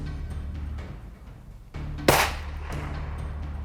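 A single sharp rifle report from a 6.5 Creedmoor fired at a 1,000-yard target cracks out loudly, followed by a short fading tail over quiet outdoor background.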